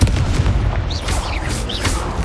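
Incendio fire spell cast in Hogwarts Legacy, with a burst of booming blasts and whooshing, crackling bursts of flame layered over a steady low rumble.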